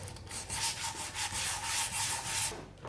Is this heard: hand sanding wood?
yes